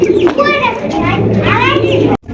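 Pigeons in a loft cooing in repeated throaty warbling calls, close and loud, with a voice talking alongside before an abrupt cutoff near the end.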